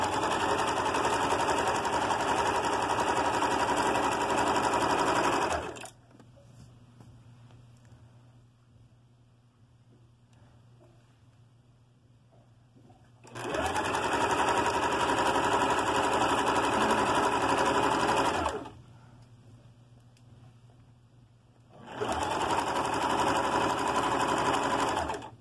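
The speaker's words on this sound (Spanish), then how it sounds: "Cosí este costado, vámonos con el otro." A sewing machine stitches the side seam of a halter dress in three long, loud, even bursts, separated by quiet pauses of fabric handling.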